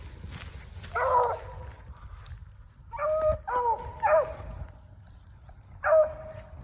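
Hunting dogs bay while trailing a cottontail rabbit in North Carolina, giving several drawn-out howling bays at moderate distance, spaced irregularly over quiet outdoor background.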